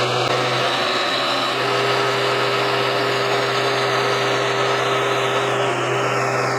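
A milling machine drives a 1/4 inch end mill through copper soft jaws for Wilton vises, giving a steady, loud, continuous whine and grinding hum that holds unchanged throughout with no talk.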